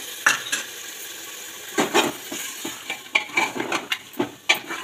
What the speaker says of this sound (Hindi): ये लहसुन अदरक का पेस्ट डाल के इसको ज़रा भून लें आप, जब तक उसकी कच्चाई ना चली जाए